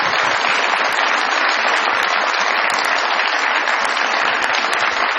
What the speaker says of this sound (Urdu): بہت ساری تالیاں معین اختر صاحب کے لیے.